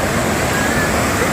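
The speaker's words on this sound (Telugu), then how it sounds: "చాలా interesting water fall and full water flow అవుతుంది ఇక్కడ" Pykara waterfall near Ooty in full flow gives a loud, dense roar of falling water that fills the short moment without a break.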